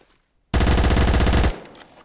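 Colt SMG gunfire in the video game Phantom Forces rings out as one loud, rapid automatic burst of about a second, each shot tightly spaced, followed by a short fading echo.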